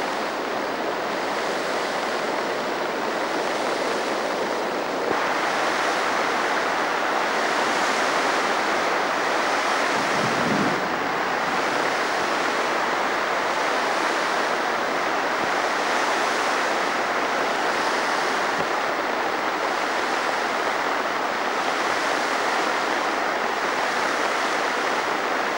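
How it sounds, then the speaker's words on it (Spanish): A rain-swollen river in flood rushes continuously, a broad steady roar of churning water with rain and wind noise over it, loud and unbroken throughout with no voices. "Este río está subiendo también muy rápidamente, está creciendo muy rápidamente."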